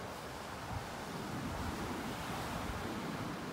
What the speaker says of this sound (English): It is really breezy out there on the beach, so it's going to be hard hearing me this morning. Looks like the surf is really up this morning.